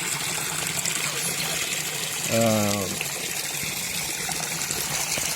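Water pours steadily from three pipes into a fish pond and spills over its edge, a constant close gushing hiss with a brief voice sound partway through.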